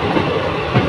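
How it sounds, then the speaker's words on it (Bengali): Teesta Torsha Express train running at speed, a loud close rumble of carriage and wheels on track, brief and continuous. "ট্রেনের গতি দেখুন স্পিডেই ছুটছে, সুতরাং দাঁড়াবে না"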